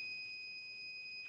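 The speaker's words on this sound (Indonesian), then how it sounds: "buzzer menyala" A gas-sensor buzzer on an automatic trash bin sounds a steady, continuous electronic tone, which sets off once the gas level tops 500 ppm. The tone holds for the whole moment with no talking over it.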